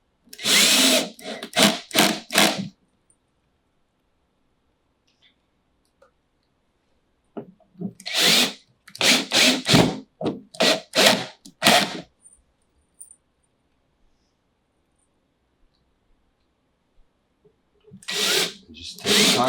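A power drill driving screws into the shelves of a vivarium reptile rack, several short whirring bursts separated by long silent gaps, close and fairly loud.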